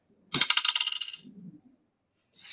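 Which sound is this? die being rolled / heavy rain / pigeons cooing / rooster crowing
die being rolled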